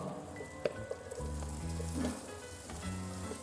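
Carrot, capsicum and other vegetables sizzle and fry steadily in a pan for veg biryani, a continuous close crackle with a few small stirring knocks and no talking.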